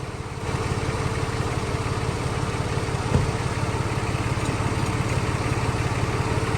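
A small engine is cranked repeatedly with a steady, rhythmic mechanical churning that holds at an even level, with a single sharp knock midway through and no clear catch into running.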